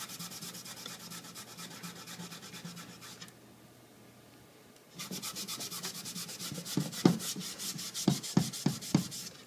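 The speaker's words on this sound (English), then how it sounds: "all you need to do is get just a wet rag and just rub it where you want to distress it." A wet rag is rubbed hard over painted furniture to distress the finish, producing close scrubbing and rasping strokes that pause briefly, then return as a faster series of rhythmic rubs.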